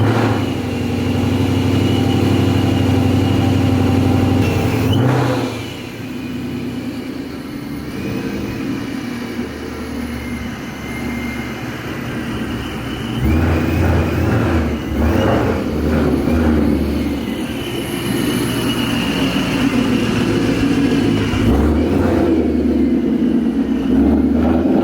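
Ford Mustang S650 engine idling and rumbling loudly close up while the car is maneuvered into a parking spot, with a few short rises and dips in revs and no talking.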